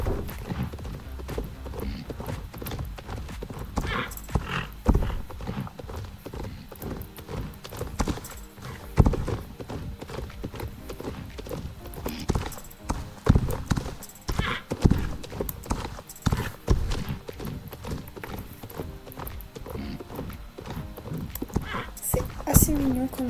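Horse hooves clip-clop in steady, irregular beats at a show-jumping grand prix, with an occasional neigh and crowd-like background noise throughout.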